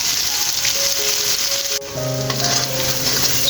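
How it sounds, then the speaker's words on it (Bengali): Ground spices frying in a pan for a taro greens curry, a loud, dense, continuous sizzle with crackling oil and faint steady tones running underneath. "সব ধরনের গুঁড়ো মশলাগুলো দিয়ে ভালো করে কষিয়ে নিয়েছি"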